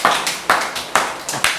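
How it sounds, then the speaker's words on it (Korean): A church congregation claps in unison, in steady rhythmic bursts about twice a second, loud and close with a quick roomy decay after each clap and no talking. "손뼉 발뼉으로 하나님께 영광 돌리시기 바랍니다"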